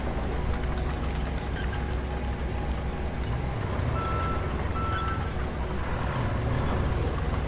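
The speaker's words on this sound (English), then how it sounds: "The backup beep is glorious" Truck in the Roadcraft video game backing up, with its reversing beeper giving a few short tones over a constant low engine rumble.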